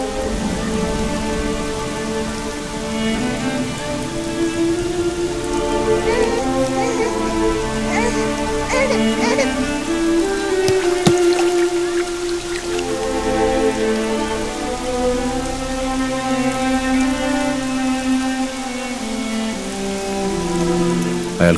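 Heavy evening rain with thunder and lightning pours steadily outside a flat, a continuous dense hiss that runs the whole time beneath a swelling musical score.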